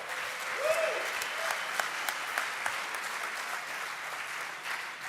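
Conference audience at droidcon Italy applauding a speaker, a sustained, moderately loud crowd clapping heard from within the room, with a brief voice sound early on.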